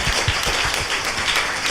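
Hands clap together in a burst of applause, a dense steady patter of many claps close by, continuing evenly without speech.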